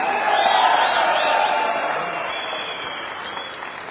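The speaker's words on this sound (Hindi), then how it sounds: "इतनी कम तालियां बजाएंगे" An audience at a large seminar breaks into loud sustained applause with a few cheers, strongest at first and then slowly fading.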